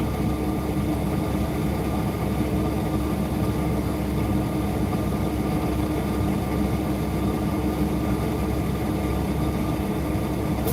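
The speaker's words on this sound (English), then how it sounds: "It's only noisy right now because of the damn regen's going, clearing the exhaust system." A truck's diesel engine runs loudly and steadily while its exhaust system regenerates, a constant low rumble and drone throughout with no talk.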